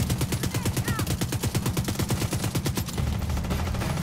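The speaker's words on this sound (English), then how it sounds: "I switched off of my LMG to see how it would handle" Light machine gun firing in The Division 2: a steady, rapid automatic stream of evenly spaced shots, loud and close, running for about three seconds before easing off, with a little voice underneath.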